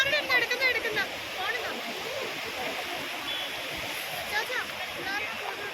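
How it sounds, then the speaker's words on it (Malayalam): The Lidder river near Aru Valley in Pahalgam, Kashmir, rushes and splashes in a steady broadband roar close by, while people talk over the water and high birdlike chirps come through. "ആരുവാലിൻ്റെ അടുത്തുള്ള ലിദർ നദിയുടെ സൗന്ദര്യമൊക്കെ ആസ്വദിച്ച്"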